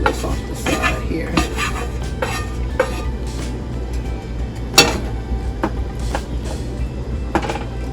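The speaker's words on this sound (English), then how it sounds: "Please scrape all this off the side here." Metal utensil scraping and stirring meat sauce against the sides of a pan for spaghetti and meatballs, a steady run of close, rhythmic scrapes and clinks over a low simmering sizzle.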